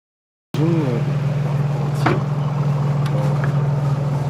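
A 350Z sports car engine starts up abruptly after a moment of silence and settles into a steady, throaty idle, with a brief voice at the beginning.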